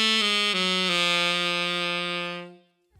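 A single sustained jazz guitar phrase drawn from the G altered scale, with a few quick notes sliding into one long ringing tone that fades out near the end, heard alone and clearly.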